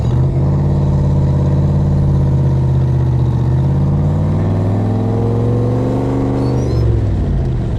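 A Backdraft Cobra replica with a Ford 302 crate V8 of 345 horsepower pulls away, its loud, close engine rumbling steadily through the gears in a deep continuous drone.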